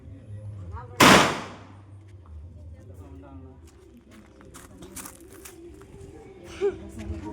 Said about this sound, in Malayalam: അതിനും വലിയ പടക്കം അവിടെ പൊട്ടുണ്ട്.